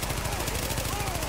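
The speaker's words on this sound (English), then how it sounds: "there's a lot of shooting going on down here." Rapid automatic gunfire in the shooter video game The Division, a dense burst of repeated shots close up over about a second, with a voice partly mixed in.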